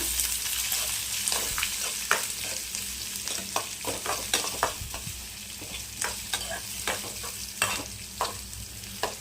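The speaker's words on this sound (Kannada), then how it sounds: "ಫ್ರೈ ಆದರೆ ಹೆಚ್ಚಿಟ್ಟಿರೋ ಈರುಳ್ಳಿನ ಹಾಕ್ಕೊಂಡು ಸ್ವಲ್ಪ ಫ್ರೈ ಮಾಡಬೇಕು" Chopped onions fry in a hot pan with a steady broadband sizzle, broken by frequent sharp clicks and scrapes of a spoon stirring, close and fairly loud with no talking.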